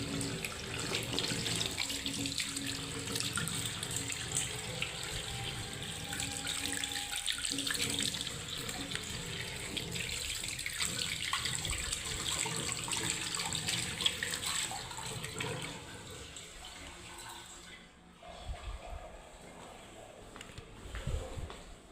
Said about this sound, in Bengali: হাতে ময়লা লেগেছে, একটু হাতটা ধুই।